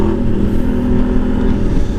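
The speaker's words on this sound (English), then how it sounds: "Gotta get some engine braking." A Suzuki V-Strom 800DE motorcycle engine brakes, giving a loud, steady close-up drone with rough low rumble and slight fluctuations, and no talking.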